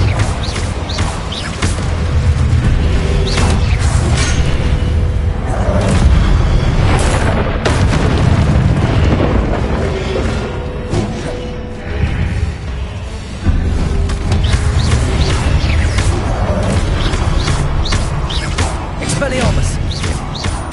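Booming blasts from the Confringo fire spell in Hogwarts Legacy, a loud, dense run of explosions and bursts through a chaotic battle, with a voice shouting spell names over the din.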